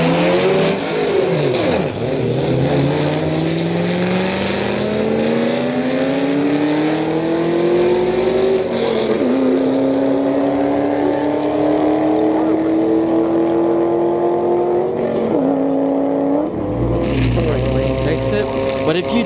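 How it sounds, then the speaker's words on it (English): An all-wheel-drive Honda Civic races a Roush S197 Mustang down a street-night drag strip. Loud, close engine roar climbs steadily through gear changes, and a second deep engine burst comes near the end. "Civic going up against a Roush S197 here on the right."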